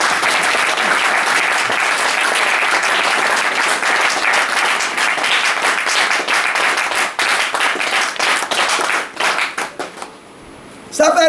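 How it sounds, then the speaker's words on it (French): An audience at a coronation and distinction ceremony claps loudly and steadily, sustained dense applause that breaks into scattered claps and fades near the end. "Applaudissez."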